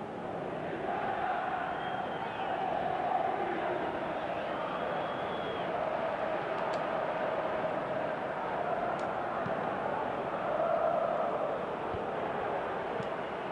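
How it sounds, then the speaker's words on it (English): Virtual stadium crowd in Pro Evolution Soccer 2018, a broad continuous roar of many voices with swells of chanting rising and falling throughout, steady and moderately loud with no clear talk on top. "you can hear how the crowd are reacting to this too"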